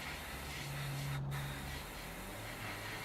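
Soft, steady airbrush hiss spraying sandy-coloured paint onto a 1/48 scale Airfix BAe Hawk T1 Red Arrows model, continuous and faint with a brief break midway.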